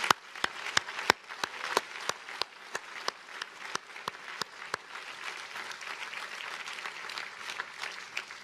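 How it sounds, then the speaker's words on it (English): Audience at Harvard Alumni Day applauding, with sharp, evenly spaced claps from a nearby pair of hands standing out at first over a softer, spreading crowd applause that continues to the end. "that deserves a round of applause"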